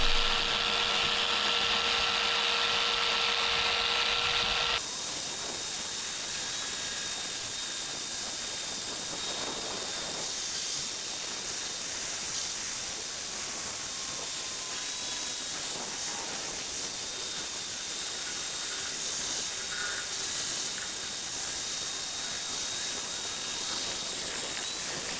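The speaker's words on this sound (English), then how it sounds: "I decided to grind off the bottom edge of the pallet house where I'd put some thickened epoxy" Power grinder working on thickened epoxy along the bottom edge of a pallet house, a steady high whine and hiss running continuously for about twenty seconds after a brief different noise at the start, no talking.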